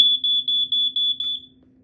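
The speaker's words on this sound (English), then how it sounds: "Pretty boring vintage alarm, I'm gonna say. All it really does is does 4-6 and pretty much it." A vintage SA67D smoke alarm sounds a loud, piercing electronic beep in a rapid pulsing pattern of about six short bursts, close and alone before cutting off.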